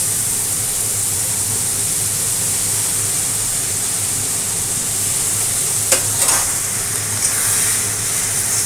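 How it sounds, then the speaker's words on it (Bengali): Hot water poured onto masala cooking in a pan sets off a loud, steady sizzling hiss that carries on throughout, with a brief spatter partway through and no voices. "আর দিয়ে দিচ্ছি হচ্ছে গরম জল মশলাটা কষানোর জন্য"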